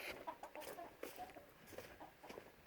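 Vietnamese game chickens cluck in short, quiet bursts, several soft calls scattered close by with no talking.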